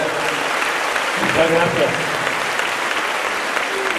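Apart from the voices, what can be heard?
audience applause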